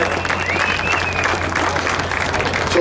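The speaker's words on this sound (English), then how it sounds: "Give them a round of applause." A crowd applauds the engineering team at the unveiling of an all-electric drag racing concept Camaro, a steady, dense roar of clapping with crowd noise throughout, moderately loud and continuous.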